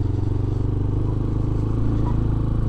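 A Benelli BN125 motorcycle rides along the road, its small engine holding a steady, close, buzzing drone with light mechanical clatter throughout.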